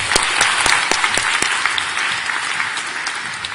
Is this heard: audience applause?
yes